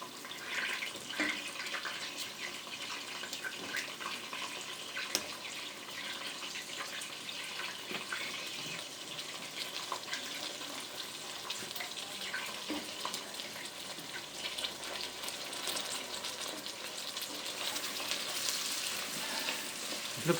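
Chilli beef soup with cauliflower boiling steadily in a pot, a continuous bubbling, sizzling hiss at an even level throughout, close by with no talk.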